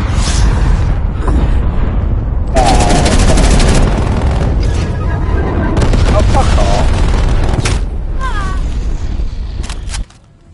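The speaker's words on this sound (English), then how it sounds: "Cruise missile inbound." Cruise missile strike explosions in Call of Duty: Black Ops Cold War: loud, dense booming blasts and crackling gunfire roar almost continuously, with brief high squealing tones breaking through, before the noise cuts off abruptly near the end.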